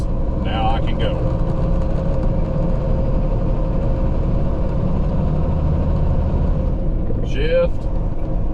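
A truck with a Cummins X15 engine shifts gears, its low diesel rumble steady and close, with brief hissing pneumatic bursts from the shift near the start and end, and someone talks over it.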